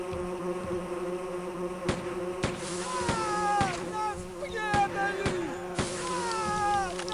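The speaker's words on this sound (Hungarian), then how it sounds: "rácélzok a köcsök szúnyogra" Insect buzzing from a mosquito enemy in a video game, whining pitch sweeps rising and falling over a steady game soundtrack, with sharp repeated clicks or shots cutting through.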